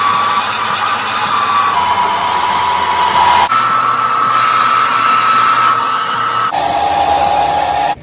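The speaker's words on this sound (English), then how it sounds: "Real quick, I'm going to blow dry." Hair dryer blow drying a lace front wig, a loud steady whirring blast that shifts in pitch as the speed setting and airflow change, with no talking.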